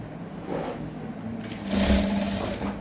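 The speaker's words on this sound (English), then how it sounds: "You sew all through that circumference, making sure that everything is properly lapped." A sewing machine stitches around the leg circumference of a kids' elastic-back pair of shorts, giving a close, steady mechanical whir that rises in speed and loudness partway through, with no talking.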